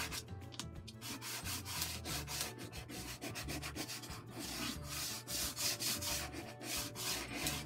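Stick of chalk dragged on its long side across paper, a steady dry scratchy rubbing in repeated back-and-forth strokes, close and continuous with no talking.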